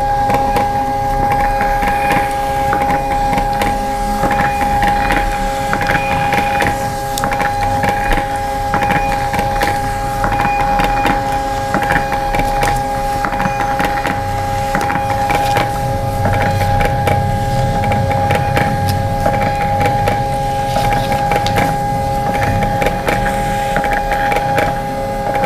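A printer churns out shipping orders for a scrunchie packing session, giving a loud, continuous mechanical whir with a steady tonal hum and faint clicking that runs without pause.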